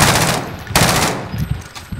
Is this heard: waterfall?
no